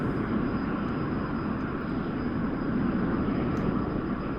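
An F-100D jet engine in a flight simulator, just after the afterburner is switched off, makes a steady broad roar at constant level throughout, with no voices.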